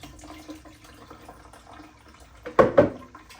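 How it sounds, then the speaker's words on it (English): Blended homemade liquid garden fertilizer is strained out of a blender: a faint, low liquid trickle runs under background noise, then two short, louder splashing bursts come close together near the end. "I'm going to strain the last batch that's in my blender."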